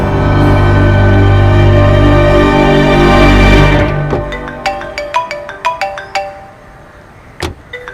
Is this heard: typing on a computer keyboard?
no